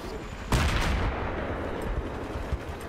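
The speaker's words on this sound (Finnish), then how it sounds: "Joku ammu." Gunfire in a Battlefield 3 Caspian Border conquest round, a loud burst of shots that opens abruptly, then gives way to steady rumbling battle noise with scattered further reports.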